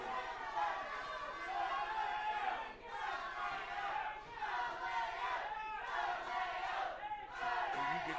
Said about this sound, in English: capacity crowd here at the shop. You can hear the shop absolutely unloading.